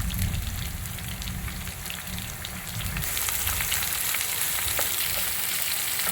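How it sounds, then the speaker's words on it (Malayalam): Sliced onion frying in hot oil for Andhra-style toor dal, a steady close sizzle that swells louder about halfway through, with faint stirring scrapes and no voices. "ഒരു സവോള സ്ലൈസ് ചെയ്ത് വെച്ചിട്ടുണ്ട്, അത് ഇട്ട് കൊടുക്കും. ആയിട്ട് കൊടുക്കും. നന്നായിട്ടൊന്ന് ഇളക്കി കൊടുക്കും."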